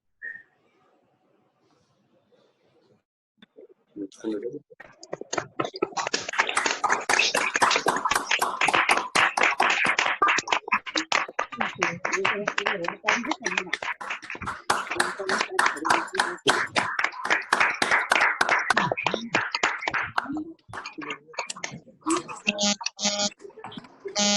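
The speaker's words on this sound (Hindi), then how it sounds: "सभी लोग तालियों के साथ उसका उद्घाटन में समर्थन करें।" Participants in an online assembly meeting unmute and applaud, a dense patter of many overlapping claps over a call connection that builds after a quiet start, runs steadily for about fifteen seconds, then thins out as voices begin.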